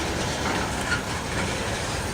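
A Norfolk Southern manifest freight led by three Dash 9 locomotives rolls slowly past Duke yard, giving a continuous rumbling roar with faint wheel clatter and no voices.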